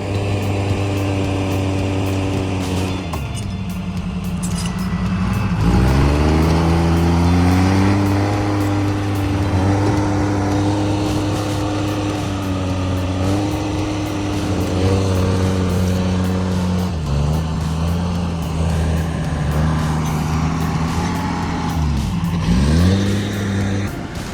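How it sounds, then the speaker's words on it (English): A Timberjack forestry machine's heavy engine roars steadily up close while hauling a heavy log, its pitch rising and dipping as it revs and strains under load, with no talking. "Listen to that fierce roar of the timberjack."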